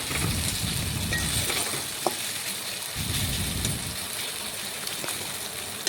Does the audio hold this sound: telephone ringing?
no